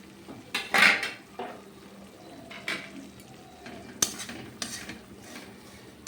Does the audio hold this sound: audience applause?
no